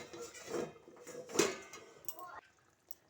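A metal lid is handled on a pot of potato curry (aloo dum) while covering and checking it, with a few soft clanks and a sharper clink amid quiet kitchen sounds.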